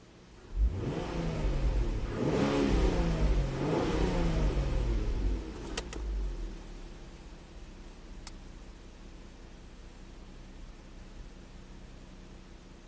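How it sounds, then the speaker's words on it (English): A Mazda engine being diagnosed for a bank 2 air-fuel imbalance revs up loudly in a few swelling pulses during the first six seconds, then settles back to a steady, quieter idle with no talking. "So revved it up there a little bit."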